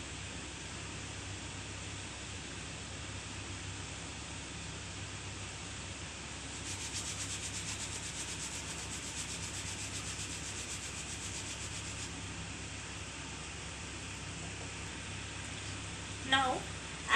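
A mud-stained cloth is rubbed and scrubbed with liquid detergent, a steady close abrasive swishing that holds for many seconds and grows slightly harsher midway, ending with a brief louder scuff.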